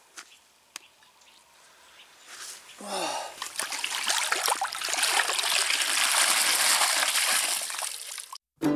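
A released carp of about four and a half kilos sliding back into the lake at an old gravel pit, with a sudden splash followed by several seconds of sloshing and trickling water up close.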